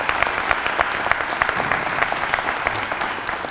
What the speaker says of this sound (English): Let's have another wonderful round of applause for our great mayor.